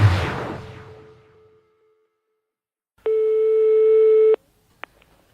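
A telephone busy signal sounds as one long steady electronic tone, followed by a short repeat, after a fading noise and a quiet gap, ahead of a French prank call.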